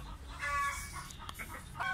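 Australorp hens cluck close by in a busy, steady stream of short calls with a few higher squawks mixed in. Nobody talks.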